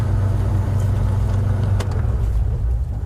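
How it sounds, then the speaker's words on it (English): A safari vehicle engine idles and runs with a loud, continuous low rumble that stays steady throughout, nearby and with no voices. "my voice is being masked by the sound of the engine"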